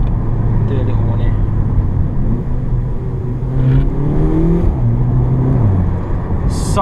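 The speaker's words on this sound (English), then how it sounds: "So much louder already, and it's like the car isn't really warmed up yet" A Volkswagen Polo GTI with a DSG gearbox, not yet warmed up, its engine droning and rising in revs under steady road noise while someone talks over it from inside the car.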